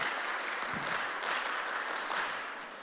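A group of mentorship session participants claps together in a room, a dense steady burst of applause that fades slightly at the end.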